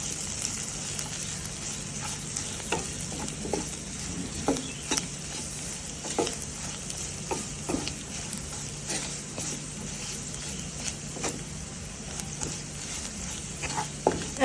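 A spoon scrapes and stirs chilli powder into a meal maker cashew masala curry in a pan, soft sporadic clicks and scrapes over a quiet background hiss, no voices.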